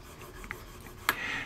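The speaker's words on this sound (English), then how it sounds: "now our sanding stick. Let's polish it a little bit." A sanding stick polishes a small part for a model ship in a few short, quiet rasping strokes, close to the microphone.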